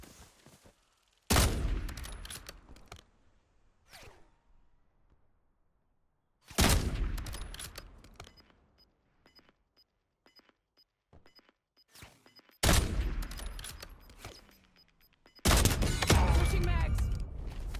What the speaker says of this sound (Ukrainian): Але по мені хтось стріляє, блін.